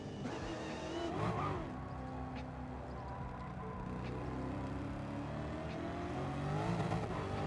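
A Dodge Demon cornering in a racing video game on the Nordschleife, with a steady engine drone that shifts pitch through the turn and a brief tire squeal, moderately loud with no talk.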